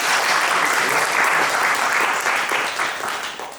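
An audience at an academic conference's closing ceremony claps together in dense, steady applause that holds strong and then begins to fade toward the end.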